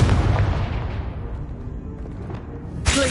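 A Confringo blasting spell in a Harry Potter video game erupts as one deep, booming explosion that rumbles and fades, followed by a second sharp burst at the end.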